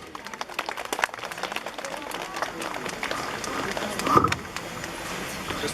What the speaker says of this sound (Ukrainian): одного депутата України пана Ореста Саламаху під ваші оплески.